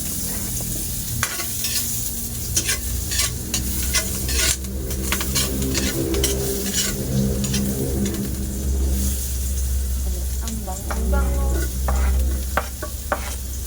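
Onion, garlic and ginger sauté in Star margarine with a loud, continuous sizzle, while a utensil stirs and scrapes the pan in irregular knocks and a low engine-like hum runs underneath.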